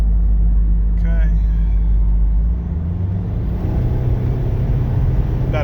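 A 2012 Subaru Forester XT Touring driving at about half throttle, heard as a loud, steady engine and road rumble that shifts slightly in tone partway through.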